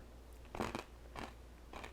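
Toffee-shell-coated peanuts crunched between the teeth: three distinct crisp bites spaced about half a second apart, close and fairly quiet, with no talking.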